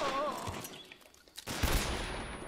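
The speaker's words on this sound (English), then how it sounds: "I'm gonna shotgun blast that fucker." A shotgun blast in Metal Gear Solid 3, a burst of gunfire that fades into a brief lull before a second loud, broadband blast erupts and rumbles on.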